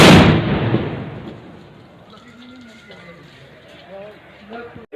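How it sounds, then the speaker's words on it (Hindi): A ceremonial cannon fired at the Topwali mosque in Ujjain to announce the Ramadan moon: one loud, close boom at the start that rolls away, followed by people talking. "यहाँ पर जो तोप चलाई जाती है ये ग्वालियर स्टेट के टाइम से चलाई जा रही है।"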